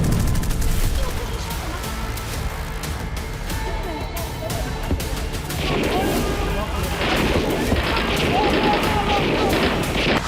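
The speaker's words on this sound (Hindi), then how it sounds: "इसके बाद इजराइल के शहर असॉल्ट राइफल की धमक से दहल उठे।" Assault rifle gunfire rattles through an Israeli city during a Hamas attack, with dense bursts of shots and crashing impacts under a voice speaking over the noise.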